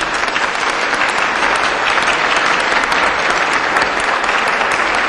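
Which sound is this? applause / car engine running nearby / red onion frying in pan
applause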